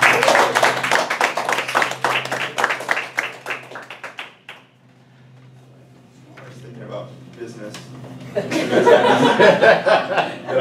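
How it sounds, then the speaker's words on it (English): An audience at a speaking club meeting applauds after a speech, with a burst of steady clapping that fades out, a quiet gap, then laughter and lively voices rising again. "Give her a big round of applause."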